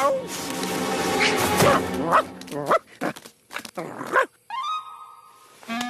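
A cartoon dog barks and yips amid animated voices in a Garfield Show episode, with short sharp bursts scattered through lively speech and a whining tone near the end.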